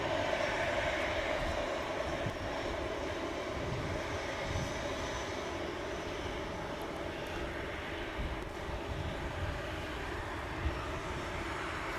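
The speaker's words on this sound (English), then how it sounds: "He's turning onto the runway right in front of us." An airliner turns onto the runway at Manchester Airport nearby, its engines producing a steady, continuous roar and whine that holds evenly throughout, with no talk over it.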